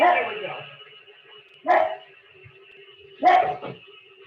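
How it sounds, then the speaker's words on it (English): A pet dog barks in a home kitchen during a cooking session, sharp yelps coming in two bursts a second or so apart, over a steady hum, with a person speaking briefly at the start. "That's my dog"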